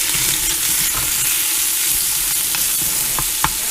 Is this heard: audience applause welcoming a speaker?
no